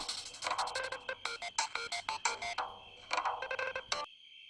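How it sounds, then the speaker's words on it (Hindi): A mobile phone ringtone plays in a repeating electronic melody indoors, sounding loud and clear for about four seconds before it cuts off abruptly. "देखना किसका फोन है"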